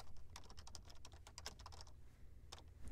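Computer keyboard typing, a quick run of light, close key clicks in irregular bursts over a faint low hum, then a brief pause and a couple more taps.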